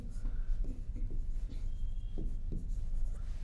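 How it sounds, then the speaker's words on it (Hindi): Chalk or marker strokes on a board while a teacher writes a place name during a geography lesson, a series of short scraping rubs in irregular rhythm, close and fairly quiet with no talk. "चलिए लद्दाख ही लिखते हैं हम इसको"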